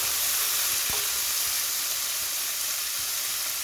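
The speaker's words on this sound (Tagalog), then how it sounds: "isunod natin guys, prito ang ating mushroom" Mushrooms sizzle steadily in a hot pan, a constant loud frying hiss with a faint clink near the start.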